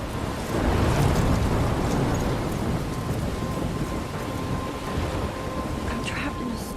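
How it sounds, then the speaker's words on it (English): Stormy weather in the Life is Strange game, with steady heavy rain hissing throughout and low rumbling thunder rolling in early on, fairly loud and continuous with no talk. "I'm trapped in a storm?"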